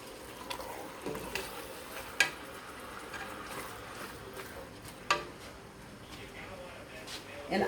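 Ground meat for stuffed peppers sizzles and fries steadily in a pan, a soft continuous crackle with occasional sharp clicks of a utensil against the pan.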